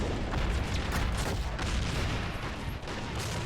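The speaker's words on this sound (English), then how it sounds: "Also walking into some Red artillery right there as well." Dense, continuous battlefield barrage of artillery and gunfire in a large online war game with Red and Blue armies fighting over trenches, a loud, rumbling wash of overlapping booms without pause.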